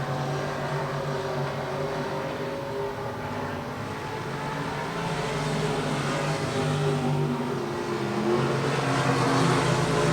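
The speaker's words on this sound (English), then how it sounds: "on the speedway now is the Buckmeyer Motorsports Eco Mod Hot Lap session number 1" Eco Mod race cars run hot laps at Rocket Raceway Park speedway. A loud, continuous engine roar holds steady and swells slightly toward the end, with no voices.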